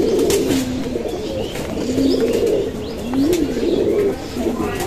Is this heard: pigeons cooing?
yes